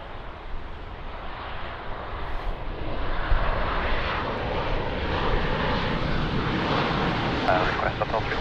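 A Ryanair airliner lands at Lisbon Airport, its jet roar building and holding steady and loud across the whole stretch while radio chatter is faintly present.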